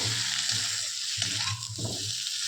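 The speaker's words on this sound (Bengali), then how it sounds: "ঘিটা দিয়ে আমি আবার ভালো করে একটু নেড়ে চেড়ে নেব" A vegetarian potato curry with a small spoon of ghee is turned over in a hot pan, giving a steady close sizzle with soft scraping strokes of stirring and no voices.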